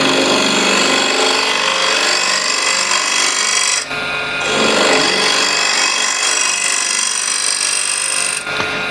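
A refiner scraper cuts inside a wooden bowl spinning on a lathe, giving a loud, sustained rasping screech with a short break midway and another brief dip near the end.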